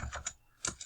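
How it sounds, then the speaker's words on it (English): Fingers tap on a computer keyboard, a few light, close keystrokes clicking in a sparse, uneven rhythm with no talk. "we could start typing in our assignment"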